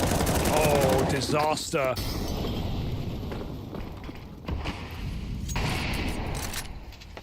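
In a Counter-Strike match, a burst of rapid gunfire crackles, followed by grenade pops and scattered shots over several seconds, with an excited commentator's voice over the top.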